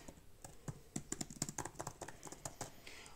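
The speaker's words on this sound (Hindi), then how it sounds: "and the feeling you have by touching these keys, ये प्रॉपर एक फिजिकल कीबोर्ड" Typing on the physical keyboard case of an iPad Air 2020, a close, quiet run of soft clicky keystrokes tapping in an irregular quick rhythm with no talking.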